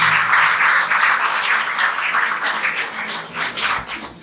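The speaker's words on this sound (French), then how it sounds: "je voudrais des applaudissements pour elle" An audience at a prize-giving ceremony breaks into sustained applause for the school principal, a dense, steady wash of clapping that slowly thins out, with little talk over it.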